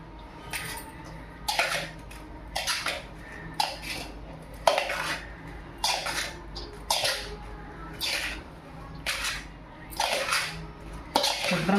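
A ladle stirs a mixture in a metal pot, giving about a dozen rhythmic scraping, clinking strokes roughly a second apart over a faint background hum, close by with no talking.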